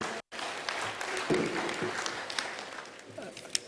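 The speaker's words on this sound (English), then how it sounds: "Let's give a huge round of applause to Mr." An audience at a conference address applauds, a brief spread of clapping at moderate distance, fairly quiet and fading toward the end.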